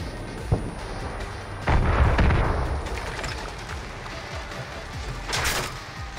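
Enemy gunfire in Far Cry New Dawn, a few sharp shots and a heavier burst of blasts over a noisy background, moderately loud, with faint talk.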